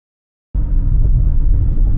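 Interior of a moving car, silence then an abrupt cut into a loud, steady low road rumble and engine drone filling the cabin for the rest of the moment.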